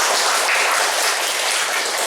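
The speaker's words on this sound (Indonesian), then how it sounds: "Oke, tepuk tangan buat Devi" Dense, steady applause from a class of students fills the short clip at an even, fairly loud level with no speech.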